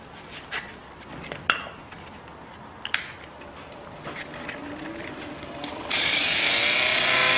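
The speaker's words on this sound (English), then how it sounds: "if you have to sand this, don't do it while it's rotating, otherwise this is the effect." Scattered light clicks and taps come first, then a loud, sudden, steady hiss as abrasive is pressed against a wooden pommel spinning on a lathe.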